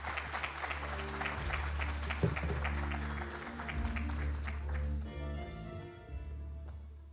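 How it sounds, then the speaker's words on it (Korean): Steady applause from a forum audience fills a hall, a dense, even wash of clapping that tapers off near the end, heard at moderate distance. "여러분 큰 박수로 민병주 원장님을 맞이해 주시기 바랍니다"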